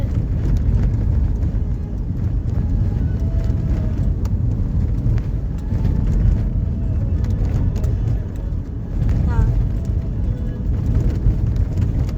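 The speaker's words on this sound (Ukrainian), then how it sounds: "Спереді у нас якась машина чорна їде." Steady, loud road rumble from inside a car driving on a road, a continuous low drone of engine and tyres with faint wind, unbroken for the whole stretch, no one talking.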